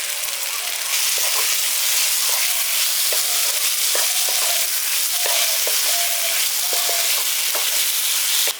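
Slit green chillies sizzle loudly in hot oil with potato and pointed gourd in a spice mix, a constant bright frying hiss broken by soft repeated scrapes and taps of stirring.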